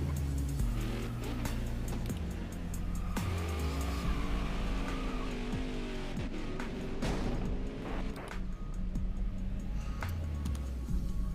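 A NASCAR stock car in a racing video game at Chicagoland roars steadily at high revs, its engine pitch rising and falling through gear changes and corners while tires squeal and chirp as the rear breaks loose.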